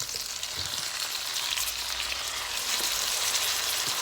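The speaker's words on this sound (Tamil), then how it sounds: "இப்போ நாங்கள் கறிக்கு போட்ட தக்காளி பழம் நல்லா அவிஞ்சு வதங்கி வரும் வரையும் நாங்கள் அதை அவிய விட்டு நல்லா வதக்கி எடுத்துக்கொள்வோம்." Tomatoes and onions sautéing for crab curry, a steady close hiss and crackle of frying in a pan with faint occasional stirring, no voices.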